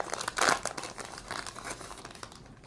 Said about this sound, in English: I like to open up packs a certain way so I don't try to damage the cards.